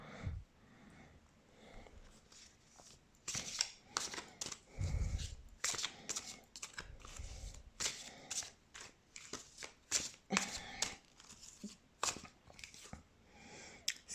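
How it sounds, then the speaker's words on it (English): Tarot cards are shuffled up close in repeated riffling bursts and snaps, with soft rustling and brief pauses between shuffles. "Let's shuffle some cards."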